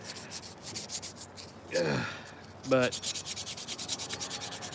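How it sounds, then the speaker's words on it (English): Tow hooks being sanded by hand ahead of painting, a rhythmic rasping scrape in quick repeated strokes. The strokes pause briefly for a couple of louder rubbing passes and a short spoken word, then resume at a steady pace. "sanding tow hooks so they can be painted pink"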